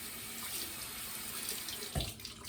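Tap water runs steadily into a bathroom sink as a constant soft hiss, close but fairly quiet, with a brief splash near the end.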